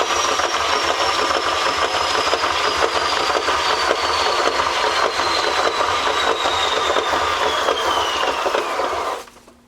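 An acrylic paint pour spins on a motorized spinner, a steady loud whirring drone with a slowly falling pitch that runs for nearly ten seconds before cutting off abruptly at the end.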